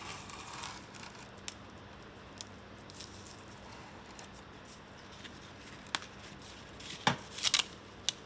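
Scissors cut a sheet of seaweed into small squares, giving quiet, scattered snips and crisp rustles that become a few louder close cuts near the end over a faint background.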